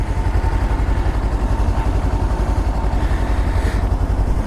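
A Kawasaki Versys-X 300 liquid-cooled motorcycle engine idles close by, a steady rapid low-pitched chugging that holds an even rhythm throughout.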